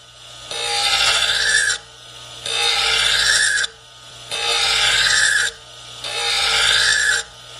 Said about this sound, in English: And then sharpen this blade up.